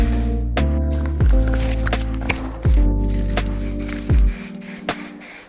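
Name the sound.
spraying matte varnish onto wood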